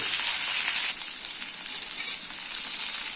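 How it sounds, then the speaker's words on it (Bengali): Cauliflower fries in a pan of oil for a khichuri, producing a steady, close, bright crackling sizzle that holds evenly with no voices. "আর এদিকে যে কপিটা ভাজা হচ্ছে"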